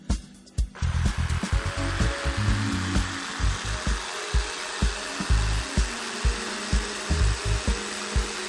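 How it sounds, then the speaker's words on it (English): A Crown jigsaw cuts through wood after a brief start-up, a steady buzzing rasp of the reciprocating blade with rhythmic pulsing strokes, close and moderately loud, with no talking. "Our jigsaw can be operated easily to cut 15, 30, 45-degree angles"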